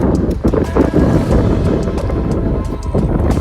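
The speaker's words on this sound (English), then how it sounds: "Whew, it's windy." Steady wind buffeting the microphone outdoors, a continuous low rumble with gusty fluctuations throughout.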